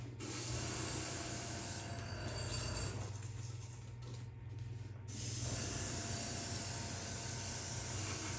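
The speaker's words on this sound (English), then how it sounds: "we will clean out the old airbrush" An airbrush is cleaned out by spraying, giving a steady close hiss that breaks off briefly in the middle and then resumes, over a low constant hum.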